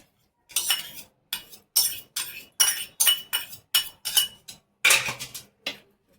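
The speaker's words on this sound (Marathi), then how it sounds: "दही घालून घ्यायचं ह्याच्यातच" A spoon clinks repeatedly against a bowl while whisked yogurt is worked into masala paste for paneer tikka masala, about ten sharp, evenly paced metallic taps, close and clear.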